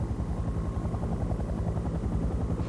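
A military helicopter from the Vietnam War flies steadily, its rotor producing a loud, continuous thudding beat with a deep engine drone underneath and no voices.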